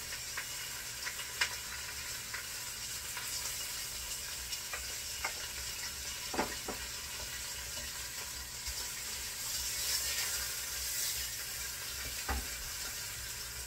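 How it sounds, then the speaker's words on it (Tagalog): Pork browns in a pan, sizzling with a faint, steady hiss, broken by occasional soft clicks and stirring scrapes. "So ito na naman yung iba-brown natin yung pork."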